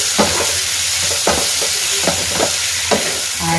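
Everest Kitchen King masala is stirred in a hot frying pan: a steady loud sizzle with a few rhythmic scraping stir strokes, close and with nobody speaking.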